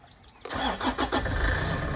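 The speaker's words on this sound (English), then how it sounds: "So we'll fire the engine up" Toyota Land Cruiser GV52GRX engine cranks briefly and catches, then settles into a steady, close-up idle with a loud, rumbling note and no talking.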